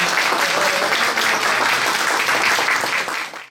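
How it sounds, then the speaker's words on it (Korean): A lecture audience breaks into loud, dense applause to welcome a guest professor, a steady wash of many hands clapping together that holds for several seconds and then tapers off at the end, with no talking over it. "큰 박수로 맞이해주십시오"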